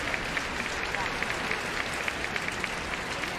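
Football crowd at a women's match between FC Barcelona and Houston Dash applauding a substituted player as she leaves the pitch, a steady, moderately distant patter of clapping spread across the stands.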